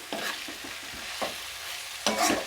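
Fenugreek leaves fry in hot oil with a soft crackling sizzle, broken by a few spatula scrapes and louder bursts as the greens are tossed, close and without talk.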